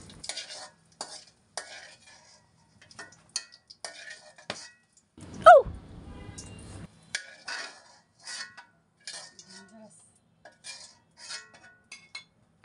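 Pre-roasted dried chillies and whole garlic fry in hot oil with a light, intermittent sizzle, scattered clicks and spoon scrapes against the pan, and one brief squeaky chirp midway.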